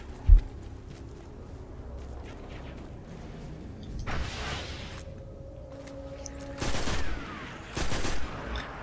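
Auto rifle fire in a first-person shooter video game comes in short rapid bursts, three separate volleys spaced a few seconds apart, over quiet ambient game background with a low tone between.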